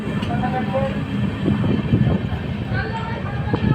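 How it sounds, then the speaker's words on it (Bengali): The Amrit Bharat Express rumbles steadily leaving Bandel Junction, with rolling wheel and carriage noise, a continuous close rattle building slightly, with no clear talking on top. "আমাদের ট্রেন ব্যান্ডেল জংশন ছেড়ে বেরিয়ে যাচ্ছে বর্ধমানের উদ্দেশ্যে"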